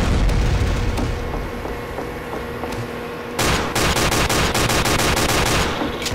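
Team Fortress 2 combat with a dense, loud barrage of gunfire and explosions. Rapid machine-gun bursts and booms sound continuously throughout, intensifying into heavier staccato fire in the second half.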